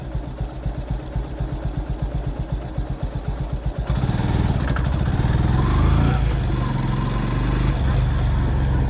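A motorcycle on a road near Munnar, in an area where elephants roam: a rhythmic, chugging engine for the first few seconds, then a louder, steadier rumble as it rides on, close to the listener, with no horn.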